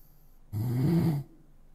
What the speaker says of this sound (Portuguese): Um ronco.